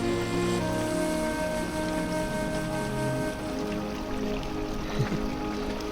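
Water flowing below the Doodh Ganga waterfall, a steady soft rushing wash heard at a distance with low background hum and no talking.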